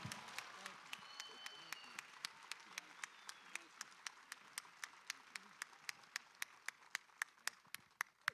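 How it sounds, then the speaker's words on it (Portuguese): Applause at a science and faith conference, a soft background wash of audience clapping under a steady train of sharp, evenly spaced close claps, with murmuring voices faintly in the crowd. "Uma salva de palmas a Barry Wilmore"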